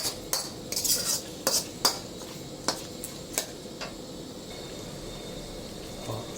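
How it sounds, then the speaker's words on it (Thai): Eel stir-fried with southern Thai curry paste in a pan, heard as a series of sharp metallic utensil clinks and scrapes against the pan over a faint steady background hiss, with no talking. "นี่ผัดเป็นพริกแกงใต้ครับ"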